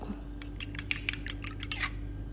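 One egg beaten in a bowl with a utensil for an egg wash: a quick run of light, sharp clinking taps against the bowl, fairly faint and close, with no talking.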